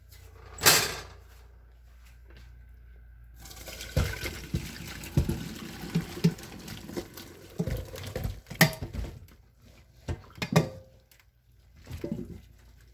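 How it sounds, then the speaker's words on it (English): Cooked rutabagas and their juice pour through a strainer set over a colander into a pot, giving a sharp clatter followed by wet splashing and patter with a few clunks of the cookware. "I'm going to put this strainer over the colander, over the pot, so that I can save some of this juice"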